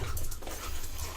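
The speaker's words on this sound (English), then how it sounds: "all the background noise is us dealing with the dogs at the same time" Dogs pant quickly and whimper close by in a short, steady burst of breathy noise with a low rumble underneath.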